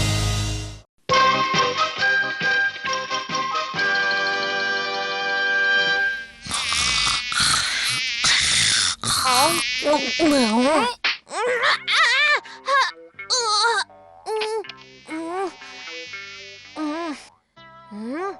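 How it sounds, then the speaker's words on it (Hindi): A high, whining mosquito buzz fills a Ninja Hattori cartoon scene, droning on and off near the ear and broken up by wavering cartoon groans and moans. "इस मच्छर ने तो नींद हराम कर दी है मेरी।"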